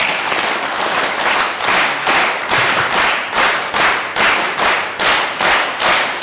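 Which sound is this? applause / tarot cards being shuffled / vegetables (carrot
applause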